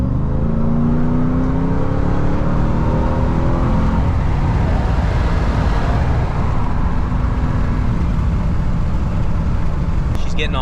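A RAM TRX pickup truck's powerful engine roars steadily and loudly as it accelerates hard, with rising whine early on and a dense, continuous rumble throughout; voices seem to mix faintly underneath.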